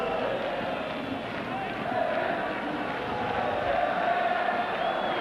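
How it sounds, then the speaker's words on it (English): Home fans in a football stadium at a 1990/91 Serie A match between Fiorentina and Inter, a broad crowd roar and applause swelling steadily throughout, with commentary talk layered over it. "And every Fiorentina player who dispossesses Nicola Berti is getting special applause from the home fans."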